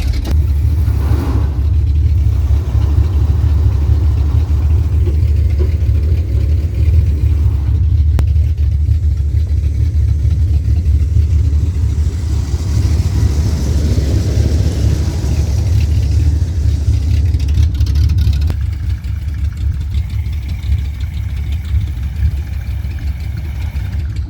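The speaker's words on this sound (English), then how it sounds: "I think I'll stop now and let that PTO winch pull the truck out." A truck's low, steady engine drone runs continuously as its PTO winch pulls it out, rising and swelling mid-way, with occasional mechanical creaks and thumps, fading a little near the end.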